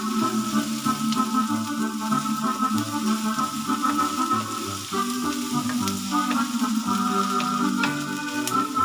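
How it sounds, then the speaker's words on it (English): Onions frying with ketchup and curry for Bavarian currywurst, giving a dense, continuous close sizzle with light spattering crackles and occasional stirring clicks throughout. "While the onions brown"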